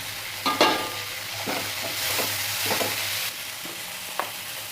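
Small garlic cloves sauté with onions and tomatoes in a pan for a fish curry, giving a steady close sizzle broken by several sharp scraping stirs of a spoon, with no talking.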